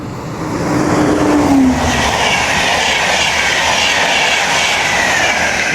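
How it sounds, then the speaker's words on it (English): An LNER Intercity 225 set from London King's Cross to Leeds passes through Retford on the East Coast Main Line, a loud continuous rumble and rush of wheels on rail with a faint clickety-clack and a brief tonal whine early on. "Pass through now as an LNER Intercity 225 set from London King's Cross to Leeds."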